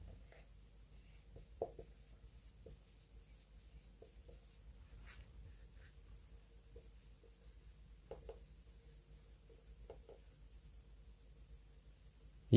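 Quiet scratching of a pen writing by hand on paper, close and soft, with short strokes and small taps in a continuous irregular rhythm and no speech.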